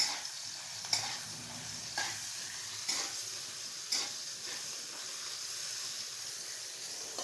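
Green chilies fry in a pan with a soft, continuous sizzle, broken about once a second by sharp stirring scrapes; the cooking is fairly quiet and close.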